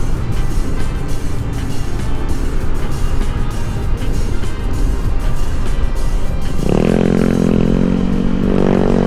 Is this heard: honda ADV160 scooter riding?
yes